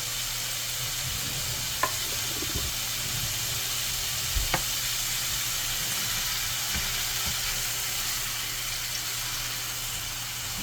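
Frozen ground meat sizzles steadily in a pan on a stovetop for a keto shepherd's pie, a constant close hiss broken by a few sharp scraping clicks, with no talking.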